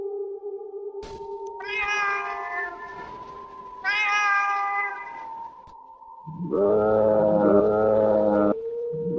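A cat gives eerie, drawn-out meows, three long wailing calls with the last the loudest and longest. They rise over a steady tonal hum, close and clear, with no talk.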